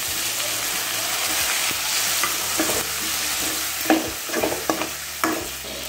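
Tomatoes frying with onion, ginger and garlic for a potato kurma, a steady sizzle under scraping and clinking stirring strokes that grow sharper and more frequent toward the end, with no talking.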